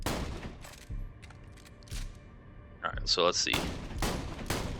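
Jakobs shotgun blasts in Borderlands The Pre-Sequel, a few sharp, loud shots spaced apart, with someone talking between them.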